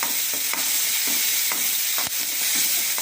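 Onion and spices sautéing in a pan for an instant sambar, a continuous close sizzle broken by repeated spoon-stirring scrapes at a steady rhythm, alone with no talking.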